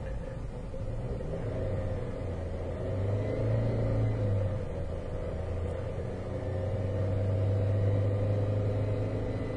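A car that stalls while driving, with a missing crank signal, has its engine revved and held near 3,000 rpm; a steady, close rumbling drone swells in two long surges with no talking.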